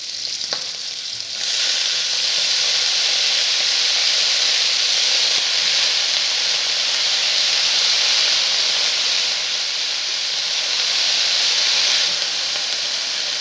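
Shrimp fry in a hot pan with a loud, continuous sizzle and hiss that swells after a moment and holds steady, close up, with no voices.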